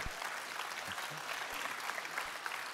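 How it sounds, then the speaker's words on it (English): Audience applause in a church or event hall, a steady wash of clapping that fills the whole clip at moderate distance, with no speech over it. "Yeah, you can clap for that."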